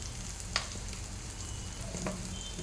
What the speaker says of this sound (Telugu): ఈ దొండకాయ మంచిగా ఫ్రై అవ్వాలి.